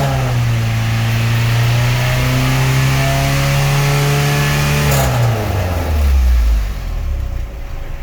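A Saturn S-series car with a rear-mount turbo revs up and holds a loud, close engine drone around 4,000 RPM, then drops away sharply as the revs fall back.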